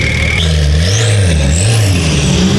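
A BMW G80 M3 exhaust booms loudly and close at a car meet. Its deep note rises and falls as the throttle is worked, over constant road and crowd noise, with a high whine drifting above.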